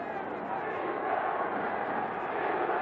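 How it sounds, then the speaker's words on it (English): Football stadium crowd at a 1984 USFL game between the Maulers and Breakers, chanting for defense as a continuous distant roar. "The crowd now calls for defense"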